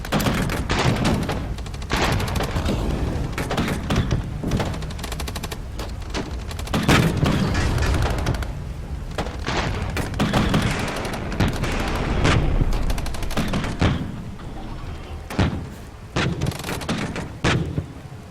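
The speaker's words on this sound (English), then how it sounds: "let's bring in a Gepard. This is just anti-air artillery, but also very useful against infantry." Gepard anti-air artillery in the Regiments video game fires sustained, dense bursts of rapid cannon shots, loud and continuous with heavy booming rumble throughout.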